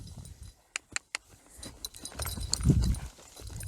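Saddled horse stepping with a few sharp, separate hoof clops near the start, then shuffling movement and soft thuds building toward a louder low scrape.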